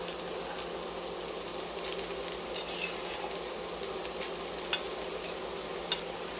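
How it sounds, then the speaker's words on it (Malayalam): Rice is stirred into a mixture in a pan in a home kitchen, a continuous soft sizzle and scrape with two sharp clicks near the end. "ഇനി റൈസ് ഇട്ടിട്ട് നന്നായിട്ട് മിക്സ് ചെയ്തിട്ട്"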